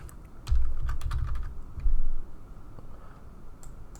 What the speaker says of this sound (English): I will start typing it out.